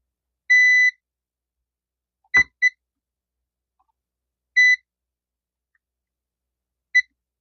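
A multimeter on continuity test gives several short electronic beeps against a TV motherboard capacitor: one longer tone, then brief spaced chirps with a faint tap between them.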